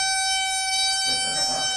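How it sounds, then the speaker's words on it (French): A clown's tricycle horn blares as one sustained, bright, buzzy honk, holding a steady tone, close and loud, with a faint rustle underneath toward the end. "Le klaxon pléché."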